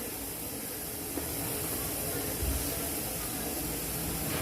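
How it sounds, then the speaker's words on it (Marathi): Water coming to a rolling boil in a pot on the stove, a steady hissing, bubbling rush that holds at an even level from start to finish. "आता छान अशी उकळ आली आता पाण्याला"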